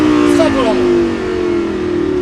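A Lamborghini Gallardo engine drones steadily at high revs on the La Ferté-Gaucher race circuit, with a brief rising whine, heard close and loud throughout.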